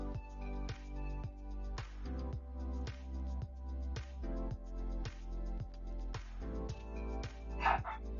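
Tilly, a pet dog, barking in a steady run of loud, close woofs spaced about half a second apart.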